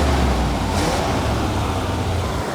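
A 1979 Camaro barn find engine, still suffering a suspected head gasket fault, runs loud and steady with a brief rev and a rough low rumble throughout, no voices.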